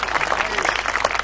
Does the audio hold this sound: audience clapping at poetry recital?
yes